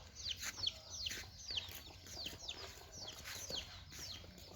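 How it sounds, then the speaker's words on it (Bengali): Chickens cluck in a rural village yard, with repeated short calls at a moderate distance over faint background noise. "মুরগি।"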